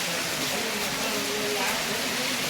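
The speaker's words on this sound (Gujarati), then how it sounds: "વરસાદ એવો મંડાઈ પડ્યો" Heavy rain pours down in a dense, constant hiss, with faint voices murmuring underneath.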